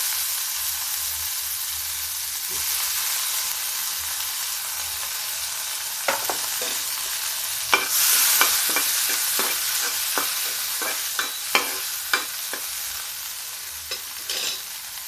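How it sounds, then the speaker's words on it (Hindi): Sweet corn kernels fry with cumin in hot oil, a constant close sizzle broken by a rhythmic series of spoon scrapes and taps partway through, with no talking. "अब देखिए इसमें मक्के के दाने हल्का सा फ्राई करेंगे"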